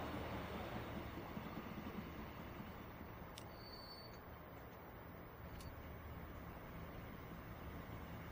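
Trains running in the PS5 transport simulation game Transport Fever 2, set in the 1930–1950 era, give a faint, even rumble that holds steady throughout, with a couple of brief high ticks.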